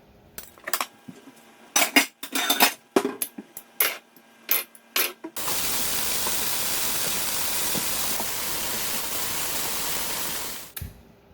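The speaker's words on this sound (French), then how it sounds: "je vais ranger ma vaisselle" Dishes and cutlery clink and clatter in a series of sharp knocks for several seconds, then a steady hiss of running water takes over until the end.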